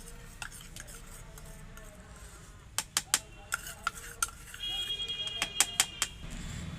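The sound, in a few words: whisking cake mixture with baking powder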